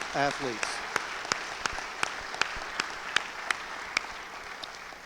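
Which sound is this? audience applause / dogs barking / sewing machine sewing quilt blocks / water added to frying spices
audience applause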